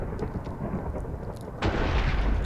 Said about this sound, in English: there's a lot of lightning.